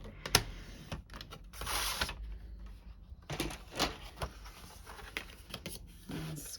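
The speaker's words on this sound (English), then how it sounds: "I'm just going to score it in half so I can fold it in half" A card base is scored and burnished for folding, giving irregular dry taps, scrapes and rubbing strokes at close range, some sharp clicks among softer swishing passes, without speech.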